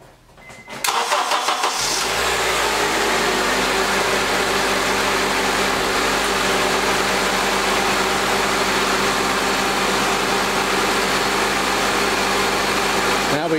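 An engine cranks briefly, catches and starts, then settles into a steady, loud idle that continues without a break.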